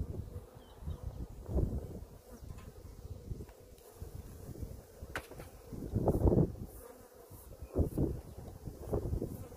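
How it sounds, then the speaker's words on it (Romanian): Honeybees buzzing around hives during rapeseed honey extraction, a continuous low hum with close passes swelling louder at intervals, plus light wind rustle outdoors and no talk. "Vedem că albina îi liniștită."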